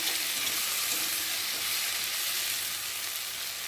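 A ginger, garlic, onion and tomato masala fries in oil in a pan with a soft, even, continuous sizzle, heard fairly quietly with no voices.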